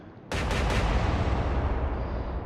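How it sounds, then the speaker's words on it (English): Sixteen-inch naval guns firing at the Bismarck in the Atlantic Fleet video game, heard as a sudden loud booming salvo of several overlapping blasts, then a long heavy rumble that slowly fades. "those are 16-inch guns blazing past Bismarck"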